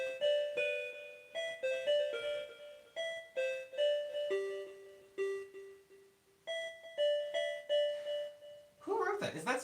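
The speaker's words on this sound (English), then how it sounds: "That's just the doorbell thing" A synthesizer patch voiced like a doorbell, a soft sine-like wave with a little delay and short decay and release, plays a series of bright chiming two-tone dings in an uneven melodic run, loud and close, ending in a brief noisy burst.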